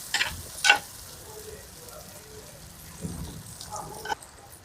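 Tomatoes and golden-fried onions sizzle in a clay pot for prawn biryani, a soft steady fry broken by a few sharp clinks and brief stirring scrapes near the start and end.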